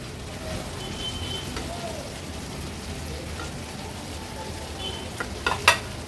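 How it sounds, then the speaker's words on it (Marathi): Fried boiled eggs go into a simmering, oily masala gravy for Afghan egg masala, with a steady close sizzle and bubbling throughout and a couple of sharp clinks near the end. "आता हे आपण तळलेली उकडलेली अंडी ह्याच्यामध्ये सोडणार आहोत"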